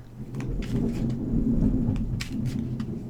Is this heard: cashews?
no